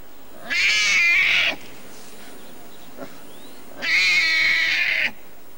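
Newborn Siberian tiger cubs born in captivity and neglected by their mother let out two loud, drawn-out mewling cries about three seconds apart, close and clear against a quiet background.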